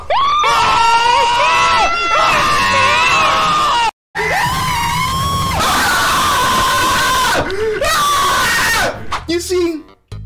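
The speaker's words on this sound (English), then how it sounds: "let's just take a quick look back at the screams in question here" Screams from horror game play of Mortuary Assistant follow one another in a rapid compilation, loud, long, strained yells and shrieks broken by brief silent cuts, with a few shorter cries near the end.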